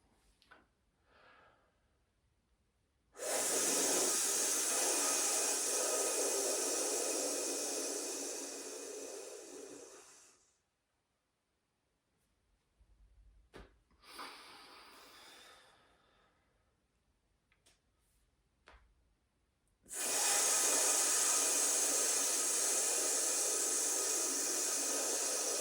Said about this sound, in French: Vous pouvez expirer complètement l'air des poumons, puis laisser l'air rentrer et ensuite prendre des bonnes respirations.